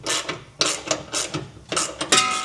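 Hitch mounting bolts being snugged down on a 2016 Ford Transit while a Class III trailer hitch is installed, with repeated ratcheting wrench bursts separated by short pauses, up close and loud, no speech.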